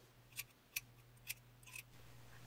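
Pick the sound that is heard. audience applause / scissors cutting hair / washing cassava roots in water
scissors cutting hair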